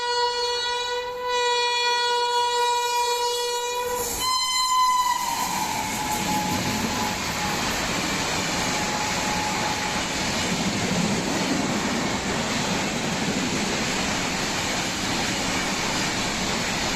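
A train arrives at a railway station, its long loud horn blaring for about four seconds before giving way to a steady rumble and rattle of cars rolling in close by.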